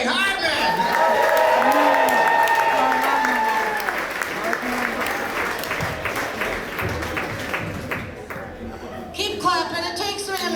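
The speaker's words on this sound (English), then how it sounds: "Please make some noise for the very funny Sherry Hardman." Comedy club audience applauding and cheering as a comedian comes on in Tacoma, loud sustained clapping with whoops that gradually thins out while a voice talks over it.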